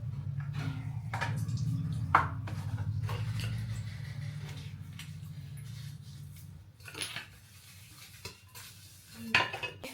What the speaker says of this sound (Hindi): तो पहले बर्तन धो लेती हूँ, फिर समेटूँगी।